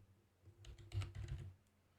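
A short burst of quiet clicking keystrokes on a computer keyboard, a quick cluster of taps lasting about a second against a faint background hum.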